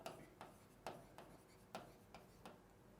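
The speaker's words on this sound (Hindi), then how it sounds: "जैसे मैं मेरा यहाँ पे नाम लिखता हूँ" Chalk or marker strokes writing a name on a classroom board: faint, close scratchy taps and short rubbing strokes in an irregular rhythm, about seven distinct marks over a few seconds, with quiet room tone.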